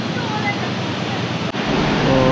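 The Bung waterfall on the trail to Manang, Nepal, roars as a steady, dense rush of falling water. The rush briefly drops out for an instant midway.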